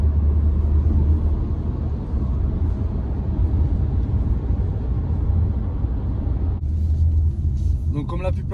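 A Renault Arkana RS Line SUV, 2021, with automatic gearbox, accelerates on a motorway, its steady low engine and road rumble droning continuously throughout, shifting smoothly, with wind and tyre noise filling the cabin.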